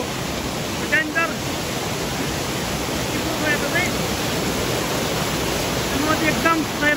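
A river waterfall in rural Achham, Nepal, pours in a steady, broadband rush of falling water, continuous and fairly loud, with faint chirping birds audible on top at intervals.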